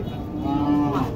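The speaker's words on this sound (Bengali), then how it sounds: "বাছুরটা কিন্তু শাহিওয়াল বাছুর।" A Sahiwal calf at a cattle market gives a single drawn-out, clear moo lasting about a second, close and loud over a faint background murmur.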